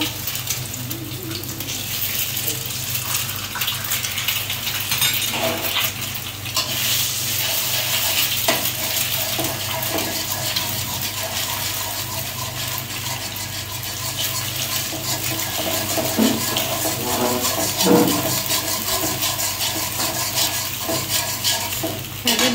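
On a home stove, chicken breast simmers in one pan while oil heats in another, giving a steady bubbling hiss with occasional clinks and scrapes of utensils against cookware, close and continuous.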